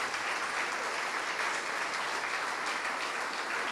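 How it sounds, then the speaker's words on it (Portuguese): A church congregation applauds steadily for the people coming forward, a dense, continuous wash of many hands clapping at even loudness from start to finish, with no voices standing out. "E vamos aplaudir ao Senhor Jesus por cada vida que está chegando."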